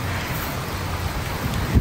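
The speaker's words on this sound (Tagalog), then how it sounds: "umuulan na." Steady heavy rain from Super Typhoon Carina pouring down outdoors, a dense continuous hiss with gusty wind noise and a brief low thump near the end, no voices.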